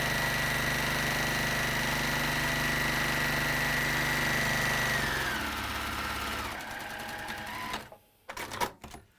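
A sewing machine stitches fabric in one loud, continuous run. It slows and stops near the end, and brief clicks and handling noises follow.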